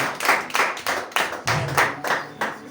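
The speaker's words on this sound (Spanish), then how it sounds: "Den un aplauso al Señor, por favor, iglesia." Rhythmic church congregation clapping in steady beats, about a dozen claps in quick succession, fairly loud and echoing as in a large room.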